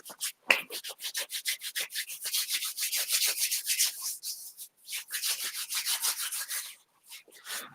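Two hands rub together briskly in a continuous rhythmic swishing, with dry, soft strokes at a close, quiet level and no talk over them.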